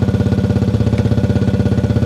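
A motorcycle engine idles just after refuelling with a full tank, its steady pulsing putter close and loud with a regular rhythmic throb throughout.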